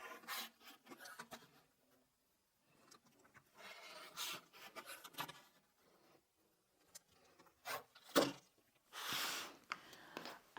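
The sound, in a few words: cutting jelly roll fabric strips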